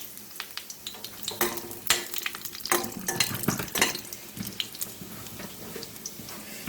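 Chili added to hot oil in a pan for a moringa leaf and lentil curry, crackling and sizzling close up with scattered stirring clicks and spatter, no talking.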